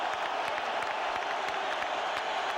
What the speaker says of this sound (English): Listen to the boos.